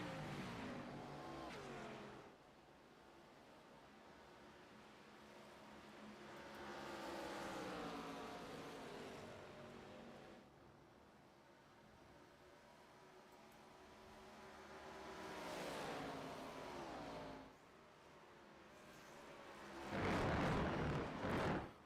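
ARCA race cars lapping the Finger Lakes track, engines swelling past in waves of loud roar, fading, then building again, with a harsh burst of noise near the end.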